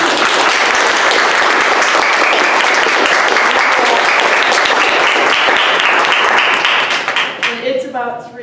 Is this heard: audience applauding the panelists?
yes